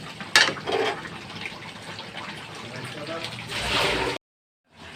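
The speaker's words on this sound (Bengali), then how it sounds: "ঠান্ডা জল দিয়ে ধুয়ে নিয়েছি" Cold tap water pours and splashes over boiled chicken being rinsed in a kitchen, a steady gushing stream with a louder burst near the end before it cuts off abruptly.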